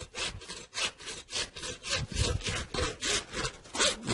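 A handsaw cuts down through a pork carcass's vertebrae and the bones beneath, a steady run of rasping back-and-forth strokes, close and loud, with no talking.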